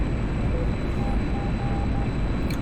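Steady, dense engine roar from a jet fighter running on afterburner in a flight dogfight video game, a constant rushing drone with faint tonal beeps over it.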